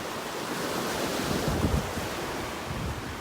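Ocean waves roll steadily onto a beach in North Naples, Florida, a continuous loud surf wash with some wind rumble on the microphone and no voices.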